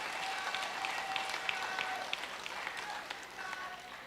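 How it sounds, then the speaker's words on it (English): Steady applause from a crowd at a Saint Lucia Labour Party town hall in Gros Islet, dense clapping sustained throughout at a fairly even level with no talking over it. "Let us give a round of applause to Brother John Michel."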